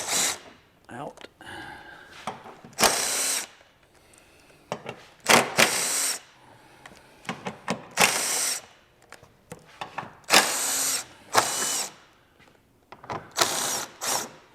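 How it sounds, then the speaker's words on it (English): Power drill backing out screws on a 2017-25 Honda Ridgeline during a lift kit install, heard as several short whirring bursts between quieter handling clatter, with someone talking in between. "we're just going to take all the rest of these screws"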